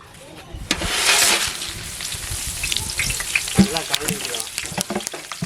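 Whole spices such as cinnamon frying in hot oil for a large batch of vegetable biryani, a steady close sizzle with brief stirring clatter and a louder burst near the start.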